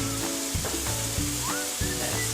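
Pineapple slices sizzling on a grill, a steady close crackle of frying broken by a few soft clatters, with no voices.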